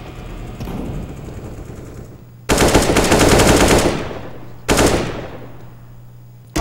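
Automatic gunfire in the video game CS:GO: a rattling burst that swells and decays, then another sharp burst, loud and close with no talking over it.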